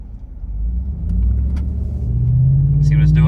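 A GMC/Chevy Sierra Silverado pickup fitted with a Pedal Commander accelerates on a light throttle, its engine rumbling low and rising into a steadier drone, close and loud, with someone speaking over it near the end.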